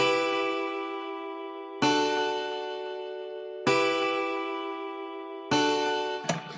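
Acoustic guitar sample chords voiced like piano chords in FL Studio, four sustained strummed chords struck at even intervals, each ringing out and fading before the next, alone with no voices.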